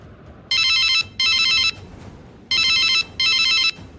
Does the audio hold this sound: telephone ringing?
yes